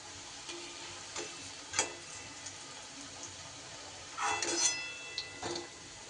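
Pieces of pumpkin dhoka fry in oil in a kadai with a faint, soft sizzle, broken by a few sharper crackles and a brief clatter as pieces are lifted out.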